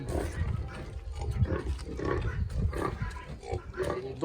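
Pigs on a farm in Benin, breeding boars and sows in their pens, grunt and snort close by in a continuous, busy stream of overlapping low calls.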